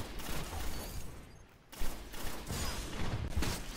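Rapid bursts of team gunfire in a Destiny 2 Trials of Osiris match, dense and loud, pausing briefly before resuming in sustained overlapping shots.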